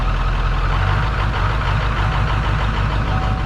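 A Ford 7.3L Powerstroke diesel truck engine runs steadily up close on a custom tune, a loud continuous low rumbling clatter with a rhythmic knocking pulse and no talking.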